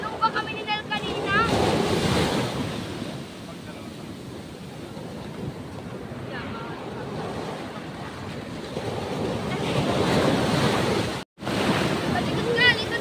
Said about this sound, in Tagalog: Kasi medyo malalaki yung alon eh.